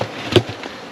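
Angry honey bees buzzing at a hot hive, a brief close buzz that swells sharply for a moment against a faint steady drone.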